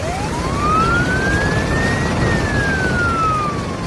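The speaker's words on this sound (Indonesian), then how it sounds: "truk pemadam kebakaran itu datang seperti pahlawan dengan sirine yang menderu keras" A fire truck siren wails in one long rising and falling sweep, loud and continuous over a dense rumble of traffic and engine noise, with no speech.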